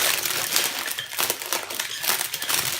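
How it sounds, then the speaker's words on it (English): Scissors cut and crinkle spare cellophane wrapped around a terracotta pot, a close run of rustling crackles and sharp snips with brief pauses between, no voices. "So now's the time to cut off our spare cellophane."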